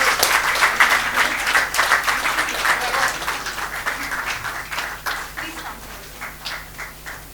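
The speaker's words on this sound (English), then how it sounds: "A big round of applause for our partners." An audience at a skill centre inauguration claps steadily in a brisk, fairly close burst, the individual hand claps gradually tapering off toward the end.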